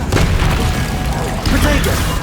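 A booming fire-spell blast from Incendio in Hogwarts Legacy, a loud, dense burst with crackling pops and thuds that fills the short moment, with a voice briefly mixed in.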